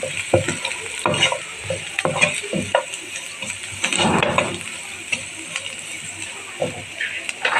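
Crushed dried coriander and cumin being stirred into a cooking mixture, with repeated scraping stirring strokes over a steady low sizzle, close and moderately loud.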